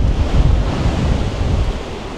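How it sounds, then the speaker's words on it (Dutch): Strong wind buffets the microphone at the easternmost point of mainland Australia, with loud ocean surf roaring beneath in a dense, continuous wash and no talk. "Elke dag waait het zo hard."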